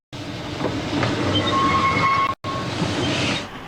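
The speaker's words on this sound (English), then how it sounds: "there's no doubting the pedigree of this loco" A Garratt steam locomotive, built to original 1910 designs, works along a steep little Tasmanian line, giving a loud, steady rumble of running wheels and rail noise that cuts off briefly and then resumes.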